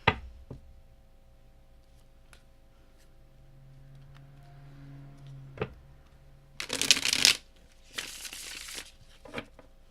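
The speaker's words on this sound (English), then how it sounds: "One more shuffle." Two quick bursts of playing cards being riffled and shuffled, close and crisp, with a few soft taps and handling noises around them.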